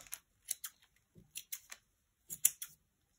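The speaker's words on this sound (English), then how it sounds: "you can still trim around it if you're not quite happy with the shape of it" Small scissors trimming a paper Easter chick craft, a handful of quiet, close, crisp snips in short clusters with pauses between them.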